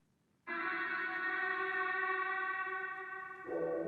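A sustained, drenched vocal sample with heavy reverb and a long decay enters abruptly and holds as a bright, layered tone, shifting pitch slightly near the end.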